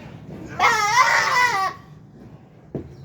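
A goat bleats once, close and loud, while being handled on a farm for bloodless castration. The wavering cry lasts about a second and is followed by a short thump.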